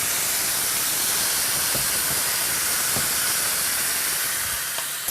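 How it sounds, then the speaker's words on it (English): Turkey searing in a hot pan makes a loud, dense, continuous hiss that holds steady throughout and fades slightly at the very end, with faint clicks beneath. "You want to hear that sear."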